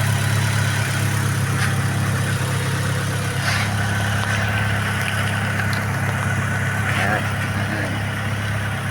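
A car engine runs at a steady idle after being started without its key, a constant close rumble that continues throughout with someone talking over it.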